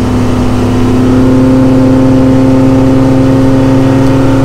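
Four Winns 250/260 Horizon boat with a 496 engine accelerating on open water, a loud, steady engine drone with strong low harmonics that holds close and constant throughout.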